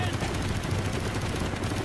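Rapid gunfire and explosions from the Call of Duty video game, a dense, loud, continuous burst of automatic shots filling the whole moment with no break.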